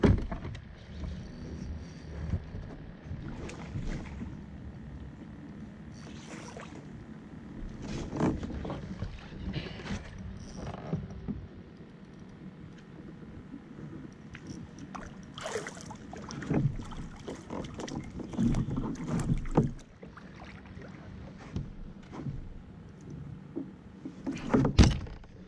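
A kayak glides through a shallow mangrove lagoon while a paddle strokes and knocks against the hull in irregular bursts of splashing and thumps, close by, over a low steady background.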